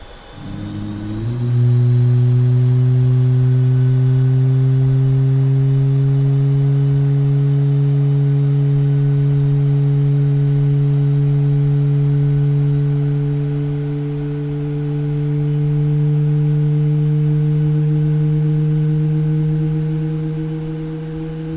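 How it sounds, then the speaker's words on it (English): A Boeing 737 engine spools up during start in Microsoft Flight Simulator 2020, a steady loud whine that rises in pitch over about twenty seconds and then holds as a sustained drone. "wait for the engine to stop motoring and then you add in the fuel"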